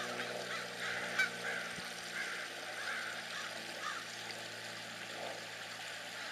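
Geese honk repeatedly at a moderate distance outdoors, with scattered calls over a steady background hum and faint stream-like ambience; no one speaks.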